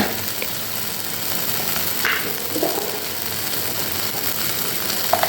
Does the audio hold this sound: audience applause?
no